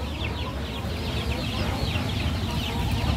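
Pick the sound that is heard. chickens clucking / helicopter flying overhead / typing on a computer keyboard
chickens clucking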